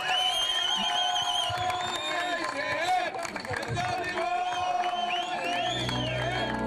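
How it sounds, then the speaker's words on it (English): A crowd at a Limerick junior football final applauds and cheers as someone climbs the steps, a dense, steady roar of clapping and whoops with a voice over the top. "take a bit of applause"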